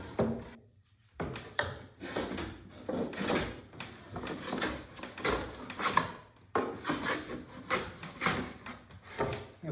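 A hand plane shaves a wooden Sunfish sailboat rudder in repeated rasping strokes, about eight passes with short pauses between, close and fairly loud.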